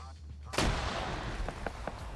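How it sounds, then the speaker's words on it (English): A sudden loud blast of autocannon fire and a rocket strike on a vehicle in a multiplayer PvP video game battle, followed by scattered, sharp, fainter impacts and shots in the distance. "That vehicle is taking autocannon fire and took a rocket"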